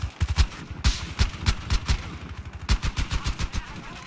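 Rapid automatic gunfire in a Battlefield Hardline multiplayer match: a close, loud stream of evenly spaced shots in several bursts with brief pauses between them.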